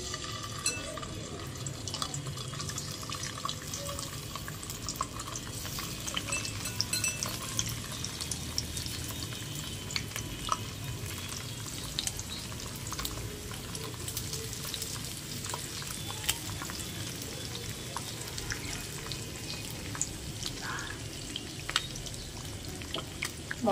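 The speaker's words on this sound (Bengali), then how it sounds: "তেল গরম হয়ে গেছে, এবার আমি একটা একটা করে মাছ" Small tangra fish are dropped one by one into hot oil, giving a steady low crackle and bubbling sizzle with scattered sharp pops, moderately quiet and continuous throughout.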